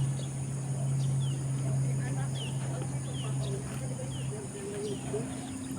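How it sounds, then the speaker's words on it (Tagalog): Faint bird chirps and short calls scattered over steady outdoor ambience near a small bridge, with a constant low hum running underneath throughout. "Pakinggan nyo po yung mga tunog ng mga ibon."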